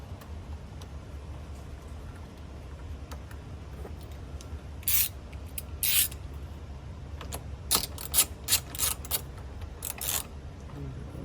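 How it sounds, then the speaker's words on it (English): A ratchet tightens a 19mm nut on a third-generation Toyota Tacoma steering wheel, giving several short, close bursts of sharp clicking with pauses between them. No voices are heard. "We'll go ahead and put our 19mm nut back on."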